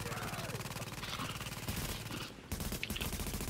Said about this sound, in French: je vais essayer de les sniper un petit peu